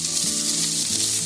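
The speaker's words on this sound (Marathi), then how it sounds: "कांदा गाजर बघा थोडा फ्राय करून घेतलाय." Chopped onion and carrot frying in oil in a pan, a dense, even sizzle heard close and loud throughout with no voices.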